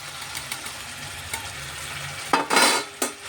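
Broad beans from a home-grown vine, along with tomato pieces, are tipped into a pan of fried mutton and stirred: a low steady sizzle, then a louder burst of frying and scraping near the end, with no talk.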